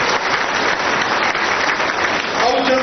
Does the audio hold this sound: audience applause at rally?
yes